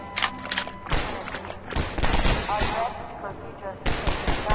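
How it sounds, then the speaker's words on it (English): Rapid machine-gun fire from a mounted gun in Half-Life 2, bursts of close, loud shots with dense gunfire and impacts through most of the stretch, with game sounds around it. "Is that a machine gun up on the right?"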